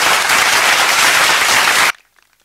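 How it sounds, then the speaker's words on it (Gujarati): An audience at a gateway inauguration ceremony bursts into dense, loud applause for an honouring, then cuts off abruptly into near silence. "આપણે સૌ તાળીઓના ગડગડાટથી વધાવી લઈએ."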